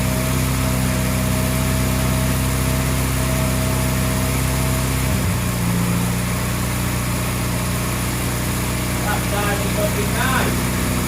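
A Morris Minor engine idles just after a cold start following carburettor rebuild work, a loud, steady close-up thrum that shifts pitch midway, with a voice briefly audible near the end.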